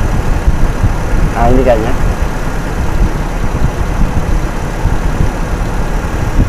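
A Toyota Kijang Super engine idles during a tune-up, a steady low rumble running throughout, with someone talking briefly over it.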